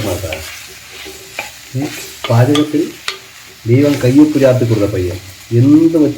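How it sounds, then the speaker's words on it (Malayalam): Kanthari chillies and other ingredients sauté in a pan for a fish curry, with sizzling and stirring scrapes up close while a voice talks loudly over much of it. "കാന്താരി ഇതൊക്കെ ഇട്ട് ഒന്ന് നന്നായിട്ട് വാട്ടിയെടുക്കുവാണേ"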